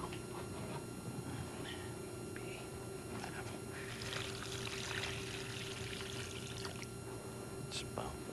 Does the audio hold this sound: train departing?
no